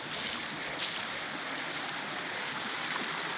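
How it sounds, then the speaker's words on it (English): Steady rushing of rain-swollen creek water, a continuous broadband wash close by with no voices. "Just to show the creek."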